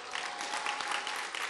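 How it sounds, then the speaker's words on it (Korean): A congregation at a Sunday-night evangelism testimony service in a Daejeon church breaks into dense, steady applause, many hands clapping together at close range with no voices over it. "예, 10명 박수 치고"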